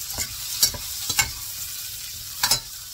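Asparagus tossed into a hot frying pan, a steady sizzle punctuated by several distinct scrapes and clatters of stirring, close and fairly loud, no speech.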